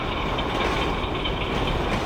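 A train passes in a suspense machinima short film on a hot, dry afternoon, a steady dense rumble of rail cars and wheels, loud and continuous throughout with no pause.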